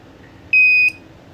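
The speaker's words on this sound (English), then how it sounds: "Blue LED, the door lock opened, buzzer" An RFID door lock gives a single sharp electronic buzzer beep, about a third of a second long and loud and close, as it unlocks against faint room noise.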